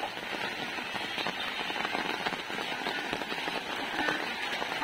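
Rain falls steadily outdoors where farm animals are being fed, a dense patter of crackling drops hitting surfaces throughout, with no talk.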